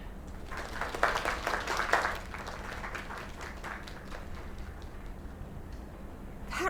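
Applause from a small audience at a live performance, a burst of clapping that peaks early and then thins into a fainter, scattered patter with murmuring.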